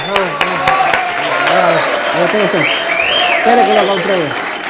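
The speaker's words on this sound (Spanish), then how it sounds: "A ver, un aplauso." Classroom applause for a student during an economics lesson, steady clapping from the class running the whole stretch, with voices and a teacher's speech over it.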